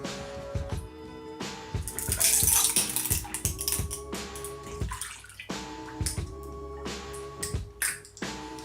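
Chilled homemade rhubarb drink is poured into a glass over ice cubes and mint leaves, with a steady liquid splash and repeated close, bright clinks of ice against glass.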